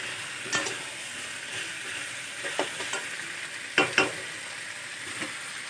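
Potato and soya chunk curry frying in a pan sizzles steadily close up, with a few sharp scrapes and clatters of stirring scattered through, and no talking.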